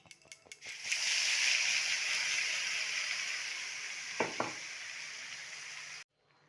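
A steady, loud sizzle of spice paste frying in a pan for prawn malai curry, starting with a few sharp clinks and then hissing continuously before cutting off abruptly near the end.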